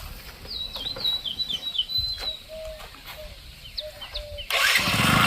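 A motorcycle engine starts with a sudden loud burst of noise near the end, after quiet outdoor ambience with birds chirping.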